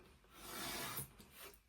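A brief, faint scraping rasp of a blade trimming a strip off a sheet of paper, a single soft stroke in a quiet room.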